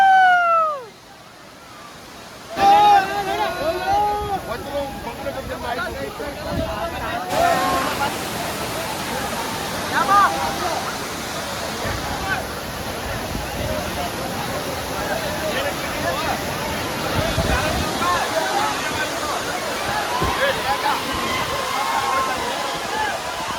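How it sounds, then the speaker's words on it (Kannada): Amboli waterfall in heavy monsoon flow gives a continuous rushing roar of water, with people talking over it throughout. "ಅಂಬೋಲಿ ವಾಟರ್ ಫಾಲ್ಸ್ ಯಾವ ಥರ ಇದೆ ಅಂತ ಹೇಳಿ ನೋಡಿದ್ರಲ್ವಾ"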